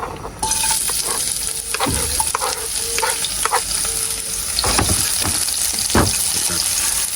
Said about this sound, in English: Saute a little bit.